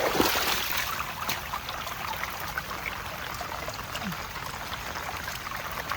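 Canal water runs after heavy rain, a steady rushing and trickling flow close by that continues evenly throughout with no talking.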